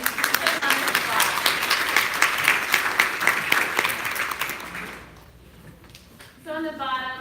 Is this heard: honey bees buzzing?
no